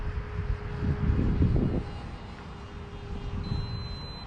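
An A-10 Warthog's jet engines at takeoff in a flight video game, a steady droning roar with a thin whining tone, swelling briefly then holding even.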